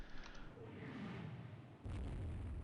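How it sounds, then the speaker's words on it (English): A single low boom from a gunshot sound effect in Rule the Waves 3 fades into a dull rumble, followed by a second muffled thump. There is no talk. "apparently there's a gunshot sound played when that happens"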